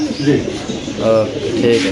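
Lahori pigeons cooing at a pigeon farm, soft throaty coos repeating close by, with someone talking over them.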